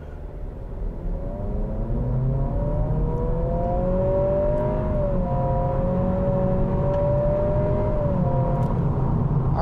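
A 2023 Acura Integra A-Spec with an automatic transmission in sport mode accelerates hard from 0 to 60, its engine note rising steadily and loudly from inside the cabin, with a whirring tone climbing over a constant road rumble.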